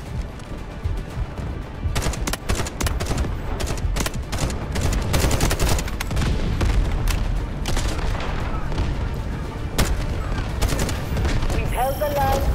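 Loud, dense battlefield barrage in the Delta Force video game: rapid overlapping gunfire and heavy artillery booms pounding almost continuously, with a brief lull near the end.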